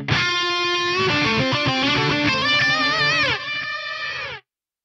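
A distorted electric guitar through a Fractal FM9 multi-tap delay with sine-shaped stereo panning plays sustained, bending chords whose repeats shimmer and swirl, then cuts off abruptly near the end into silence.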